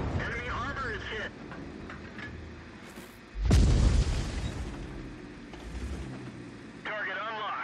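In the World of Tanks video game, a tank shell strikes enemy armor with one loud booming impact midway, set among game radio voices and ambient battle noise before and after.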